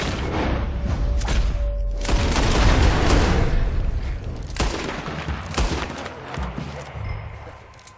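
Gunfire aimed at a bear in Red Dead Redemption 2: several sharp, loud shots spread irregularly across the clip, with heavy rumbling game sounds in the background.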